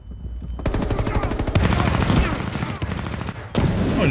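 Rapid automatic gunfire in the mobile shooter game Area F2, loud bursts of repeated shots with short pauses between them, with some faint talk beneath.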